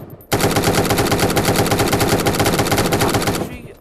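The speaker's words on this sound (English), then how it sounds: "we're gonna go back to machine gun shot" Close, loud video-game machine gun fire rattles in one unbroken rapid burst of evenly spaced shots for about three seconds, then cuts off abruptly.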